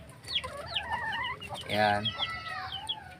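Backyard chickens, Milsims Black breeding stock, cluck and call close by. One bird gives a louder, longer rising call near the middle, and a short spoken word sits among the calls.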